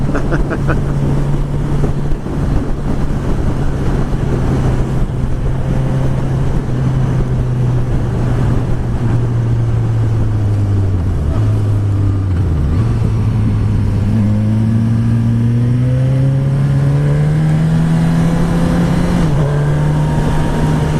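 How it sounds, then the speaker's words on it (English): A 2016 Suzuki GSX-S1000 inline-four motorcycle engine drones steadily at speed with a rising and falling stock exhaust note, heavy wind noise rushing over the microphone throughout. "I can hear this thing bellowing, and it sounds awesome from this Inline 4."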